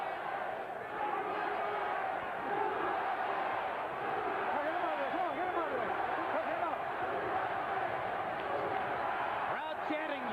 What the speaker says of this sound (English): Crowd chanting USA